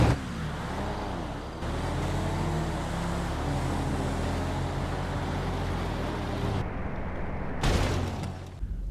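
Race cars in GTA V launching side by side and accelerating hard together, a loud sustained engine roar with rising harmonic sweeps, cutting off briefly near the end before a final burst.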